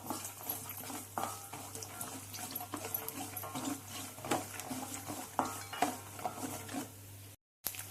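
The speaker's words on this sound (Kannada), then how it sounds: "ಸಾಸಿವೆ ಚಿಟ್ಕುಟ್ತಾ ಇದೆ" Mustard seeds crackling and spluttering in hot oil with roasted peanuts in a pan, a steady fizzing sizzle punctuated by small pops and occasional utensil clinks, no talk.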